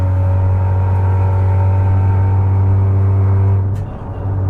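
Straight-piped Mazda RX8 cruising at 60 mph gives a loud, steady, deep exhaust drone with strong low hum and layered harmonics, dipping briefly near the end before resuming.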